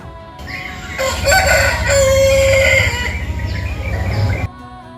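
A pet rooster with reddish-white feathers crows loudly and close, one long drawn-out cock-a-doodle-doo with a rising opening and a sustained wavering tail, alone without speech.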